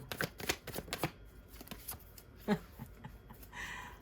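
Quick riffling and soft snapping of cards being shuffled nearby, a rapid patter of small slaps that trails into quieter rustles.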